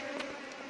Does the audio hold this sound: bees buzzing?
yes